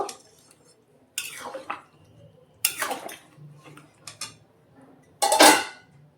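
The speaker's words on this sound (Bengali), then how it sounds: "এবার ঢেলে নিচ্ছি একটা জায়গায়" Freshly cooked chili chicken scraped from a metal pan into a serving dish: several separate bursts of clattering metal and crockery knocks, with quieter scraping between them and no talking.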